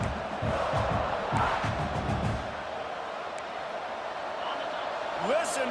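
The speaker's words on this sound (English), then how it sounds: "Listen to this crowd just shaking the girders of this place, trying to help their defense." Stadium crowd roar in a college football video game, a steady dense wash of cheering and noise that swells loudly through the first half and then settles into a lower sustained rumble, with a commentator's voice over it.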